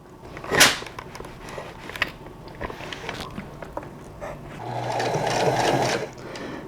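A sewing machine slowly runs a top stitch to hold an edge together on a T-shirt. A sharp knock and fabric handling come first, followed by a steady, close motor hum lasting over a second.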